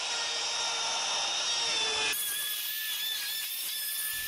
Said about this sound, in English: I've got the router maxed out for speed to help minimize chatter and keep the cut clean and